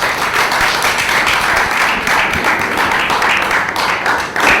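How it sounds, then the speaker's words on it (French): An audience at a business financing event claps loudly and continuously, a dense wash of applause filling the whole stretch with no talk over it. "Merci d'applaudir très fort pour l'équipe."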